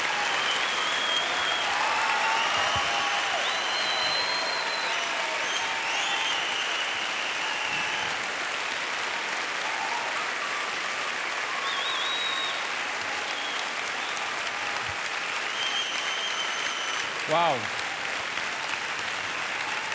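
A talent show semifinal audience gives a standing ovation: loud, continuous applause that stays even for the whole stretch, with scattered cheers and a voice briefly speaking over it.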